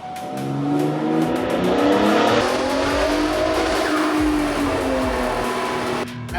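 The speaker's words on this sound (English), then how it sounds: "And it gets up in RPM so fast." A Gen 3 Ford F-150 Raptor fitted with a Formline turbo kit revs hard on a dyno, its engine climbing quickly in pitch and holding a loud, steady roar throughout.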